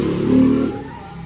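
A motorcycle engine revs up close in a short burst, its growl swelling and then easing back to a lower idle.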